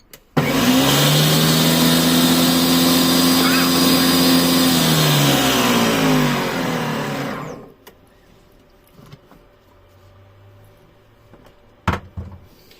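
Monsieur Cuisine Compact kitchen machine with turbo lid whirring at high speed, a loud steady motor drone for about seven seconds that cuts off abruptly, followed by quiet handling clicks.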